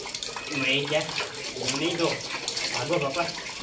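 Tap water runs and splashes while clothes are washed by hand at home, a steady close gushing with sloshing, while people talk over it throughout.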